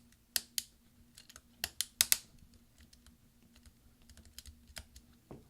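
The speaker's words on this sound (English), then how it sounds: "we're pushing it down until they all catch" A right command key on an early 2011 13-inch MacBook Pro is pressed down onto its hinge clips, producing a handful of sharp plastic clicks and snaps up close, followed by softer small taps, with a faint steady hum underneath.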